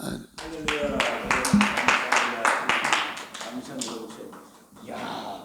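Congregation clapping during a church service: rhythmic, steady hand claps from many people fill the room while a voice carries on over them, then the clapping fades.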